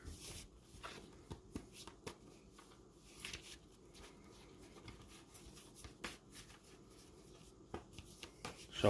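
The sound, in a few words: shuffling a deck of tarot cards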